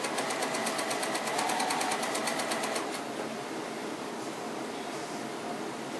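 Sewing machine stitching joined fabric arcs for a giant dahlia quilt: a rapid, steady mechanical whir with fast needle ticking for a few seconds, then a quieter continuous hum, moderately faint and close, with no talk.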